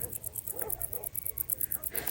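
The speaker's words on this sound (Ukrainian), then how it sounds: "Десь далі собаки лають" Faint dogs barking and yipping in the distance in the Carpathian mountains, a few short calls over a quiet outdoor background.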